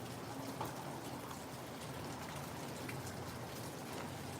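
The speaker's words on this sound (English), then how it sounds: "I love the sound of the rain." Rain falls steadily on a cold day, a continuous patter with no pauses, quiet and even throughout, and no one speaking.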